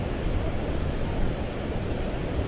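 Sea waves wash steadily at Versova Beach at night, a continuous broadband surf roar with a breezy, windy texture and no distinct breaks, fairly loud and unbroken throughout.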